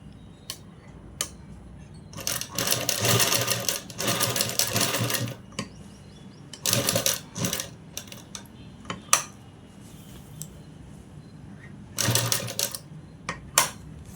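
A sewing machine stitches a design onto a ready-made jacket in several loud, rapid rattling bursts separated by quiet pauses and a few small clicks, with no speech.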